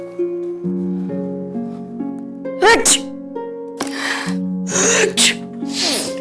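Two loud sneezes from a woman with a cold in an Indian TV drama scene, ringing out over a sustained musical score, the second sneeze followed soon by a softer third burst.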